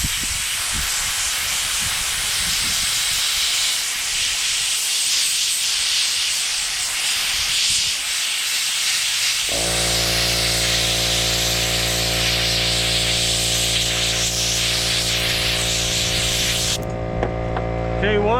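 A $35 Harbor Freight sand blaster blasts a steel part, the intake of a big block engine, with a loud, steady rush of air and grit. Partway through, a deep, even machine hum joins underneath the hiss, and no one speaks.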